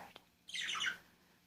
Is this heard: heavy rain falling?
no